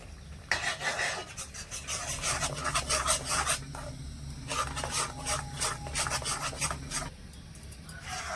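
A coconut and milk powder mixture is stirred in a pan for sandesh, with milk added little by little. A steady scraping, rubbing rhythm runs close and moderately loud, pausing briefly, with no talk.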